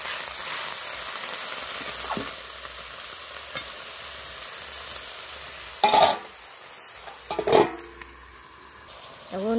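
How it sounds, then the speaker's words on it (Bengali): Bottle gourd leaves simmering with lentils in a pot give a soft, steady sizzle and bubbling throughout, with a few louder clatters of a utensil against the pot near the end. "লাউ পাতা এই জল বার হবে আর ভালো হয়ে সেদ্ধ হয়ে যাবে।"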